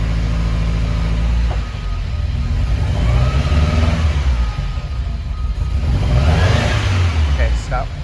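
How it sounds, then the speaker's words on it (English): A car engine idles and is given a little gas, rising into a couple of moderate revs and settling back, close by with people talking over it; the car is suspected of having something wrong. "Give it a little bit of gas."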